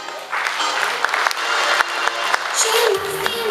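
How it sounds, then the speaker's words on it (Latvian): An audience at a children's preschool dance group concert applauding, steady dense clapping with scattered louder claps, while voices and a higher sung or spoken tone come through near the end. "Aplausi!"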